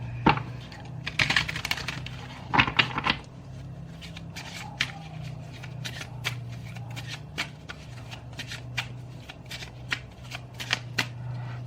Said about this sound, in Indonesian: Aku shuffle dulu ya kartunya.